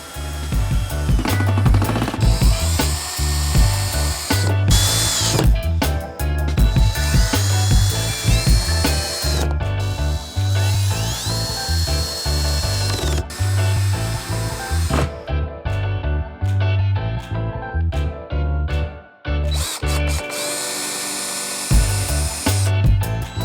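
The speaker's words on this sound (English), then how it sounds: "I'm just gonna be using plain old screws and screwing right through the plywood into the end of the 2x4." A power drill drives plain screws through plywood into the end grain of 2x4s for a round storage ottoman. Repeated loud whirring bursts rise in pitch as each screw sinks, separated by brief pauses and clicks, with no voices.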